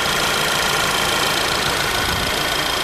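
A VW Golf 6 GTI with a 2-litre turbocharged engine idles in a steady, dense hum that holds an even level throughout, close and fairly loud.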